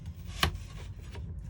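A knife slices through an onion on a cutting board with one sharp, close thud and a fainter follow-up cut, set against a soft low background hum.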